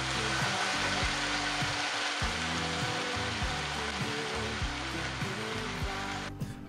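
Onions and tomatoes sizzle steadily in a frying pan for a simple three-ingredient tomato sauce, a dense continuous crackle with faint stirring and no talk.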